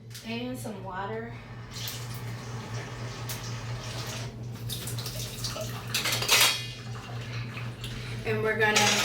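Water pours into a bowl of seasoned wash with ice for deep-fried zucchini fries, a short splashing rush under steady kitchen hum, with a voice talking before and after.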